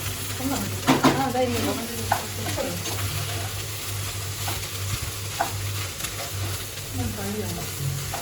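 Mushroom chicken fried rice sizzles in a pan while a spatula stirs and scrapes through it in repeated strokes, close and steady, with a person talking over the cooking.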